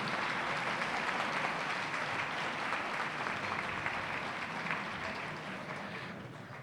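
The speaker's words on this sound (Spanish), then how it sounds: "creo que es justo un aplauso para los tres conferencistas de esta tarde" A large audience at a constitutional law congress claps steadily and loudly for several seconds for three speakers, the applause gradually thinning toward the end, with no talking.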